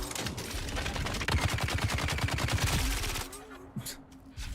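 Rapid SMG fire from a Dune: Awakening firefight, darts striking a shield, a dense run of fast shots loud and close for about three seconds, then breaking off into quieter gameplay sounds.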